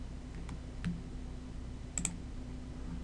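Quiet computer keyboard typing while renaming a folder, just a few sparse light key clicks over a low room hum.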